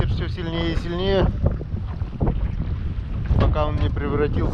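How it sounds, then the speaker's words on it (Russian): Strong wind buffeting over open water during perch fishing from a boat, a steady rushing roar with gusts, accompanied by someone speaking throughout. "Ветер все сильнее и сильнее."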